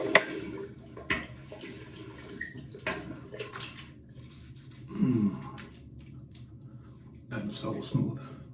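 Tap water runs into a sink during wet shaving with a Muhle R41 safety razor and a new Feather blade, a faint steady trickle with soft splashes and rubbing, while someone talks over it.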